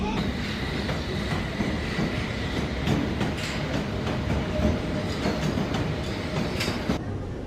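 A London Underground Bakerloo line train rides along with a steady, loud rumble, rhythmic wheel clatter and a faint high squeal throughout.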